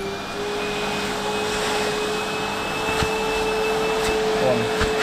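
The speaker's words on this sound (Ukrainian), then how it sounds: "Так, Включаємо пилісос." A vacuum cleaner runs with a steady whine during interior cleaning of a Hyundai Santa Fe, with a few knocks and bumps as the nozzle works through the car.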